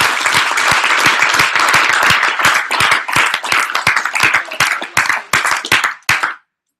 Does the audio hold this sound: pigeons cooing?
no